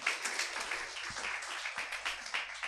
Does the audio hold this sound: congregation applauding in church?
yes